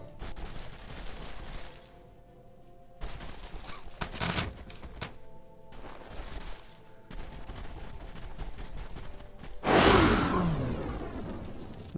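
Ranged units firing in the fantasy strategy game Age of Wonders 3, a run of several muffled shots and thuds over a steady game soundscape, ending in one louder, sharper impact burst.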